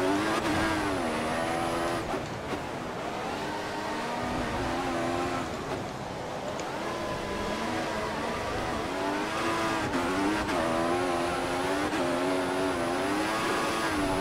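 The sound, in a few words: race car drifting with tire squeal, from F1 2014 video game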